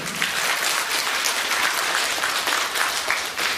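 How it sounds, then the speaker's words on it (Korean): Audience at an apartment pre-sale briefing session applauding: dense, sustained clapping from many hands, loud and even throughout with no talk over it. "박수 한번 쳐볼까요? 더 세게 치세요."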